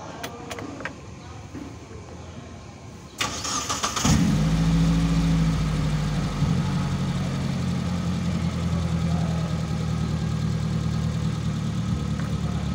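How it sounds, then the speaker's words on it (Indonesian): A car engine turning over and settling into a steady idle, a low even hum that holds constant at a stable speed after some quieter handling noise at the start. "mobilnya itu dalam keadaan normal, RPM juga stabil normal, kemudian mesin juga nggak pincang"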